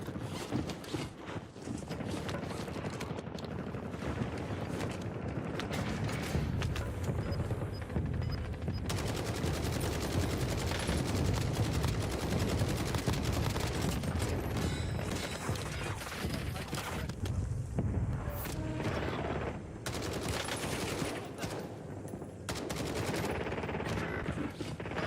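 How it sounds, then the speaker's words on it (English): Gunfire in a shooter video game crackles through a long stretch of battle noise, with scattered shots and rattling bursts over a steady din, moderately loud, while voices talk intermittently. "Taking effective fire."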